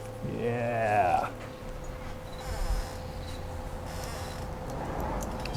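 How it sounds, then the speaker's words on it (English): A squeaky door on an Audi Quattro rally coupe, in a workshop with the welder running, lets out a close, wavering squeal for about a second near the start, followed by low steady workshop hum. "This door is so squeaky."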